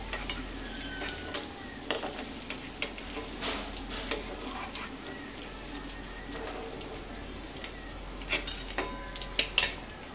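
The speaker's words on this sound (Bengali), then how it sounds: "ওই তেলের মধ্যে আবারও পনিরগুলোকে দিয়ে দিচ্ছি" Paneer pieces fry steadily in hot oil in a pan, giving a quiet, continuous sizzle. Occasional clinks of a utensil against the pan come and go.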